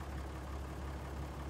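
Tractor engine idling in Farming Simulator 19, a steady low continuous rumble with no change in pitch or level, heard alone.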